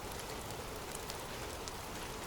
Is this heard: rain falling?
yes